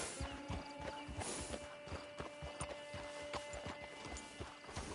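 Steady clip-clop of horse hooves walking at an even pace in Red Dead Online, with a faint whinny and outdoor ambience in the background.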